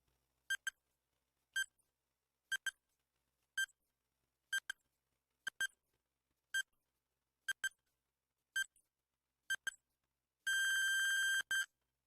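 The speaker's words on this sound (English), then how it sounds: "Timer begins now." A quiz countdown timer beeps in a steady once-per-second rhythm, about ten short bright electronic tones, then ends with a longer sustained buzzer-like tone and a final beep, clear and alone.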